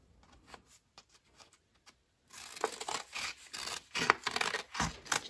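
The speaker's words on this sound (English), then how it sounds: "So we're gonna cut this excess part using our scissors." Scissors cut paper for an origami fortune teller, first with a few faint, quiet snips, then with a denser run of louder, rustling cuts and paper handling close by.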